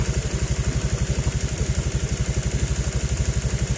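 A Honda Vario 125 LED scooter with a faulty CKP sensor idles steadily nearby, its engine putting out an even, rapid low pulsing throughout with no talk.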